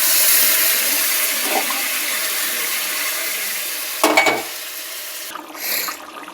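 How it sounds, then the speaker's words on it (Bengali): Water poured into a pan of simmering meat for gravy, a steady hissing sizzle with a brief splash of pouring and stirring near the end. "ঝোলের জল দিয়ে দিলাম"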